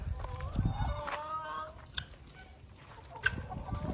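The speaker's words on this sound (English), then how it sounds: "Guinea fowl, turkeys, geese, roosters, chickens." A mixed farmyard flock in Ghana of chickens, roosters, guinea fowl and turkeys makes quiet, scattered clucks and short calls, with faint thumps and rustling around them.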